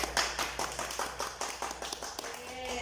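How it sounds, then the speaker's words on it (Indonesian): A classroom of children clapping, heard as a quiet run of distinct, rhythmic claps at a fairly even pace, close by and without talk. "Beri tepuk tangan untuk kita semua."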